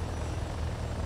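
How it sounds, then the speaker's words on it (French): A helicopter in a video game flight simulator hovers with a loud, steady rotor drone and engine roar, a short continuous stretch with no speech. "Donc là, faut que je stabilise au mieux hein, mon hélico en vol stationnaire."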